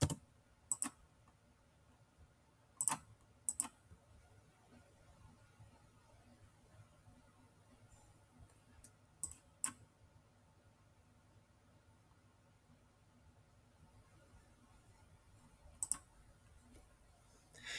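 Computer mouse clicking on a desk: a few sparse, crisp clicks, some in quick pairs, scattered across a quiet background with faint hum and no talking.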